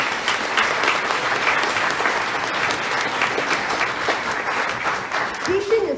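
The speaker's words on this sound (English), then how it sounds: "Can we please give them a big round of applause?" An audience at a teachers' town hall applauds in a sustained, dense wash of clapping that fills the room at steady loudness from start to finish.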